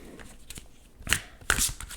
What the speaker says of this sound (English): just feel like shuffling a couple more